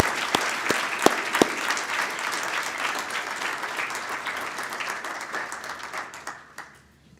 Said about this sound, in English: Let's have an applause for them.